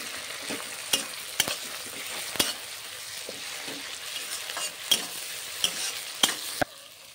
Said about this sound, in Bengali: এরপর আমি এর মধ্যে দিয়ে দেব রসুন বাটা, আদা বাটা, আর দিয়ে দেব শুকনো লঙ্কা বাটা, দিয়ে ভালো করে আবারও আমি কষিয়ে নেব।